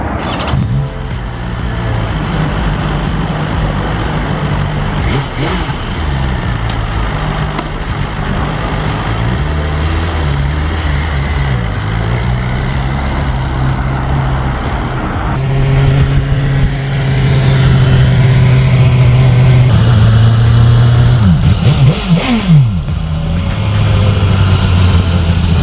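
A brand new 2020 BMW S1000RR M superbike on its first ride, engine note loud and steady throughout with rising revs and shifts, wind rush growing louder toward the end.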